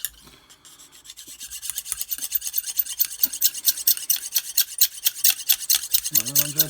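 Knife blade drawn across a stone in a Lansky sharpening system, rapid rhythmic rasping strokes that grow louder after a quiet start, close up, with a voice starting at the very end.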